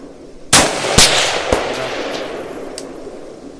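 Three sharp rifle shots from a PSA 14.5 crack at a shooting range, close and loud, each about half a second apart and trailing off into a ringing echo.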